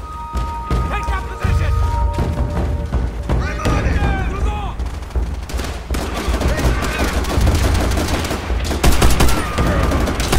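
Wartime small-arms gunfire in the Call of Duty: World at War campaign, with bursts and single shots cracking through a busy battle soundscape, dense and continuous over low rumbling explosions, with voices talking underneath.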